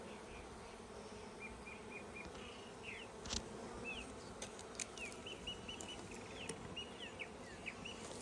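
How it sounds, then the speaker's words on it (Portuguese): Honeybees from a hive in a tree trunk crowd into a box during a rescue, making a faint, steady buzzing drone. Scattered bird chirps sound over the top outdoors. "Onde a gente vê as abelhas entrando dentro da caixa."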